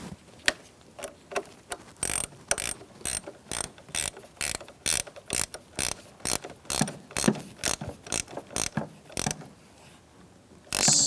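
Repeated ratchet clicks come from a wrench tightening the negative battery cable clamp on a 2004-2009 Mazda 3 2.3L. Roughly twenty quick, close bursts arrive in an even back-and-forth rhythm with brief pauses between strokes, and nobody speaks.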